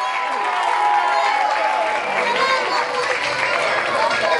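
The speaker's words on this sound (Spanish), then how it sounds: "La despedimos con este aplauso." A crowd applauds and cheers as a singer leaves the stage at a live show, a dense continuous roar of clapping and voices holding steady for several seconds.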